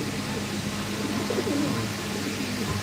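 Pigeons coo softly at a crowded pigeon market in Mirpur, low burbling calls rising briefly over a dense, noisy background of crowd murmur.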